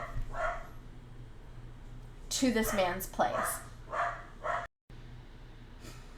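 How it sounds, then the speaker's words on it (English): A dog barking indoors near a person talking: several quick yips and barks cluster in the middle, mixed with speech, before a brief cut to silence. "the dog started barking"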